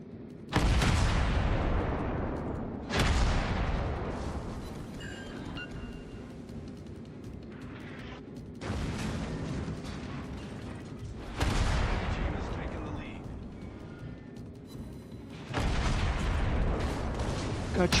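Naval broadside gunfire from a warship in a video game: a series of heavy, booming cannon blasts spaced several seconds apart, each with a long rumbling decay, with a voice talking in between.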